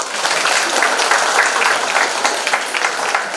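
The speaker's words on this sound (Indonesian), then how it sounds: "Kita beri tepuk tangan dulu untuk MC." A school audience at a junior high event applauds the MC, with loud, dense, continuous clapping from a crowd filling the hall.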